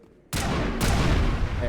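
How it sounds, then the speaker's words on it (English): A gunshot in Mass Effect 1 hits a fire containment unit, opening as a sudden loud blast that keeps roaring as a sustained burst of fire and noise, with a second sharp crack partway through. "I shoot the fire containment thing."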